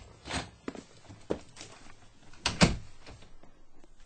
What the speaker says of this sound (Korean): 사무실 문을 열고 들어가